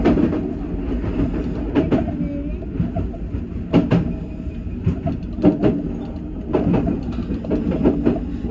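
A Nishitetsu Tenjin-Omuta Line limited express bound for Omuta, heard from inside as a steady rumble with repeated rail-joint clicks and thumps, loud and close throughout.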